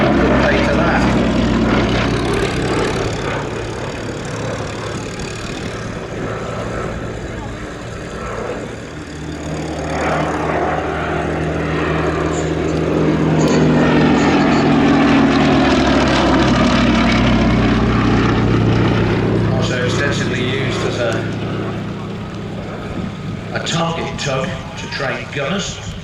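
A vintage propeller aircraft flies at the Shuttleworth airshow, its engine droning loud and close, swelling and fading as it passes overhead, while an announcer talks throughout.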